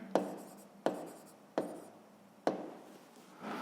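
Pen writing on paper during a sixth-grade maths exercise, heard as four sharp taps each followed by a short scratchy stroke, close and quiet in a still room with no talking.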